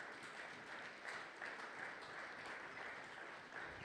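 A church congregation at a Sunday praise and thanksgiving service applauds, a steady, dense, moderately distant wash of clapping that lasts throughout.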